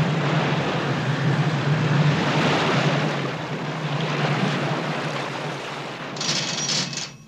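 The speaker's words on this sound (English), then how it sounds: "the thrust from Calypso's reversed propellers does the job" The ship Calypso's reversed propellers and outboard motors thrusting while anchored astern near harbour buoys, heard as a loud, steady churning roar of engines and water that eases slightly near the end.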